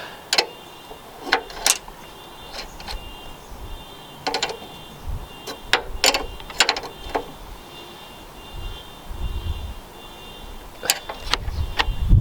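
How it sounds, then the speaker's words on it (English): Spanners tightening the end nuts of a carbon fibre strut brace on a Mk6 Ford Fiesta ST150, giving intermittent metallic clicks and ratchet-like ticks in irregular bursts, fairly close and alone. "get your 16mm spanner and your 17mm spanner and tighten your ends up"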